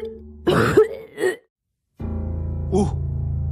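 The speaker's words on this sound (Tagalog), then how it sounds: "Bigla naman kaming nakarinig ng ubo ng babae." A woman's cough effect in a dramatized Filipino aswang horror story, a few short harsh bursts close up against low eerie background drones, followed by a sudden silence and then the ominous drone again.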